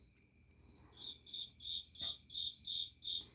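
A cricket chirps in steady, evenly spaced pulsing trills, loud and close in an otherwise quiet setting.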